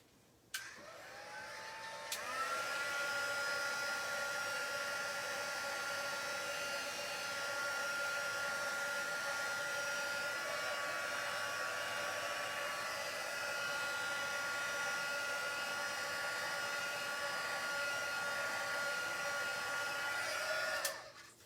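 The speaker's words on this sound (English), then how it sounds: "Shall we give it a blast with my heat gun?" A heat gun blows hot air during a card-making craft session. It is a loud, steady whoosh that switches on abruptly, holds for about twenty seconds and then cuts off, with no talk over it.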